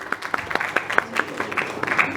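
Audience applause at the Bollywood Iconic Award 2025 ceremony: a crowd claps in a quick, uneven patter, with a few sharp individual claps standing out.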